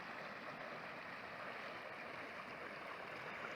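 A swollen mountain creek, where two creeks join, rushes loudly and steadily, a dense continuous wash of fast-moving water filling the whole clip with no voices.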